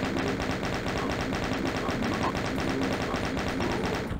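Doom 2 chaingunner firing, a continuous rapid burst of loud, evenly spaced machine-gun shots with no pauses, alone without voices.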